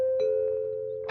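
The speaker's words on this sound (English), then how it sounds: "I'm about to ring my first bell" A single sustained doorbell chime rings out steadily and fairly faint, followed by a quick noisy burst at the end.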